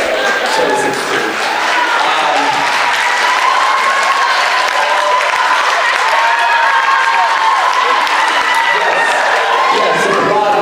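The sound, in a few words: audience applauding at a convention Q&A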